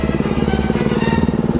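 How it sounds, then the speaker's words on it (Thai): A tuned engine revs steadily with a rapid, pulsing rumble at close range, running without a break and with no talk. "ต้องเร่งมันหน่อย แม่ชอบเร่งเครื่องว่ะ"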